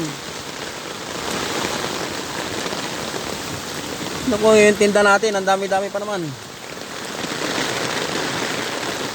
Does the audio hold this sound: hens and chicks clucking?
no